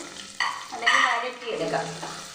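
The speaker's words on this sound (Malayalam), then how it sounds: "തക്കാളി കാർത്തികം ഒരു ശകലം മല്ലിയില ഇതും കൂടിട്ട് നമുക്ക് വാട്ടാവേ വാട്ടിയെടുക്കാവേ" Tomato and coriander leaves are added for a chana masala and stirred in a pan, making a brief close sizzle with sharp spatula scrapes and clanks that rise and fade over about two seconds.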